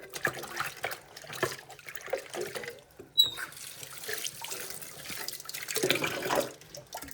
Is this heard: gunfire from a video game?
no